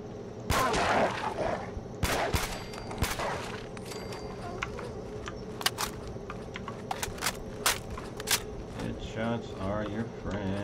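Sharp gunshots ring out in Fallout 4 during a Far Harbor exploration, a string of loud isolated cracks spaced irregularly, with a voice talking between and over them.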